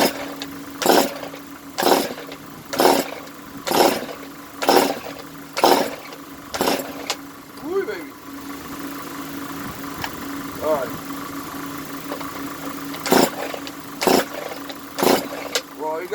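A Stihl TS 420 concrete saw is pull-started with the choke on, giving a row of evenly spaced loud bursts followed by a brief uneven sputter, with people talking close by between attempts.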